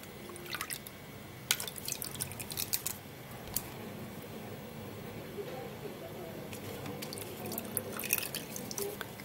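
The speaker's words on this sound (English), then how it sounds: "Now I'm going to be straining out the seeds from the lemon." Lemon juice strained through a strainer to catch the seeds gives soft trickling and dripping with a few sharp clicks and taps of utensils, fairly quiet and close.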